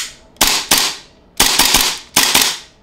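An Arcturus Hi-Capa airsoft pistol fires on the last of its gas: four or five sharp, loud shots, mostly spaced apart with one quick double, each ending in a brief hissing tail, with no talking.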